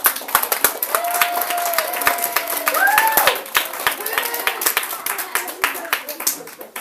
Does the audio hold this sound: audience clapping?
yes